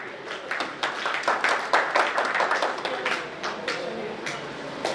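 Audience applause at a ceremony in Aggarwal Bhawan, a dense burst of many hands clapping with rhythmic peaks that gradually thins out toward the end.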